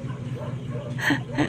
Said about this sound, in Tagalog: Yun lang ang ingay ng aso.